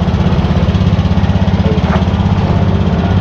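A Honda Beat FI scooter's small engine, fitted with a wireless kill switch, idles right after starting, a loud, close, evenly pulsing putter that holds steady throughout with no talk.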